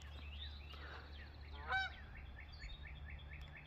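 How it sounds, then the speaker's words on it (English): A lost goose honks repeatedly outdoors, a series of short nasal calls at a distance with one louder honk in the middle, over steady low background rumble. "This poor goose is lost."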